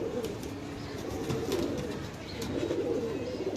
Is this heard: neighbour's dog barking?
no